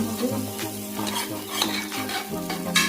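Meat is stirred into fried masala in a pan for a potato curry, with a spoon scraping and clinking against the metal over a continuous sizzle, close and fairly loud.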